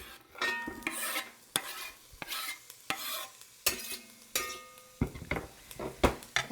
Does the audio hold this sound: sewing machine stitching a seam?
no